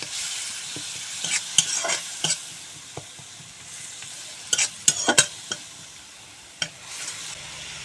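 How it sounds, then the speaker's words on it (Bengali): Spice masala with tomato and a little water frying in a pan for a bhindi aloo curry, a low sizzle broken by sharp scraping stirs in short bursts, close and without talk. "এখন সামান্য জল দিয়ে দিয়েছি এখন মশলা ভালোভাবে কষিয়ে নেব"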